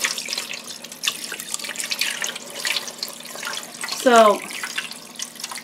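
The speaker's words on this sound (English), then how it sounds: "I'm going to go ahead and pour water over here" Water poured while making scrapple from scratch in a home kitchen, with a close, splashing gush swelling briefly near the end amid a running liquid trickle, and a voice speaks briefly.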